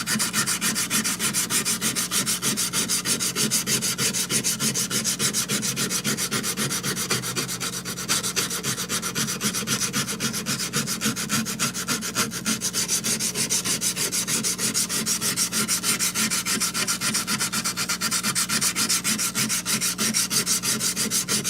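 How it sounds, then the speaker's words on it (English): A surface is hand sanded with 220 grit stones in a continuous close scratchy rubbing, fast back-and-forth strokes holding a steady level throughout. "So now that I'm doing the 220 with the stones, I'm doing about a 30, 45 degree angle off axis"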